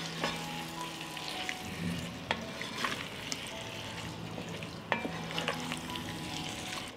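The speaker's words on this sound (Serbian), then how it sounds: "promešat ću." Chopped sausage, frankfurters and vegetables frying in a pan while being stirred: a steady sizzle with repeated scraping and knocking utensil strokes against the pan, close and moderately quiet with no talking.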